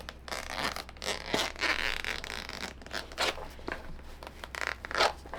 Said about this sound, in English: Now the zipper's just coming undone.